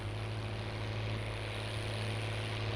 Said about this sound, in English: A lot of tractors pretty much like this one working.